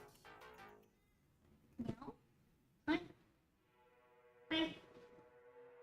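A house cat meows a few times at close range, short rising-and-falling calls separated by pauses, while a person talks nearby.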